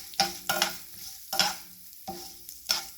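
Mustard seeds, urad dal, chana dal and fenugreek sauté in oil, with several spaced bursts of stirring and scraping over a faint, soft sizzle, close and fairly quiet.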